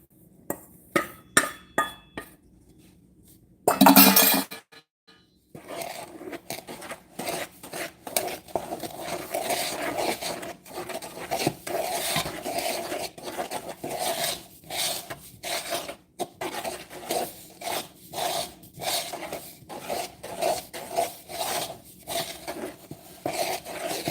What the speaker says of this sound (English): They want you to stir the flour mixture in.